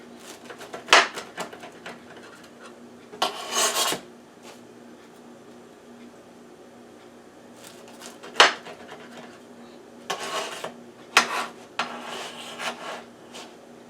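A homemade half-pepperoni, half-onion-and-pepper pizza is cut in its oiled, cornmeal-dusted pan. Quiet, intermittent scraping strokes come in short bursts separated by pauses.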